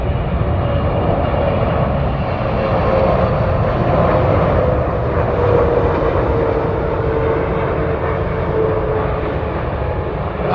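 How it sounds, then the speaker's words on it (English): An airplane coming in to land near runway 25L makes a loud, continuous roar close by. The rumbling jet noise swells slightly and holds steady for the whole stretch, with no speech. "I'm pretty happy that aircraft came in"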